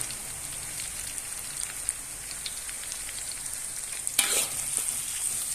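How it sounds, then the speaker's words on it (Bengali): Onions sizzle steadily in a hot pan while being stirred with salt, a continuous close frying hiss with scraping stir sounds and a sharper clatter near the end. "লবণ দিয়ে একটু নেড়াচড়া করে পেঁয়াজের একটু কালার নিয়ে আসবেন"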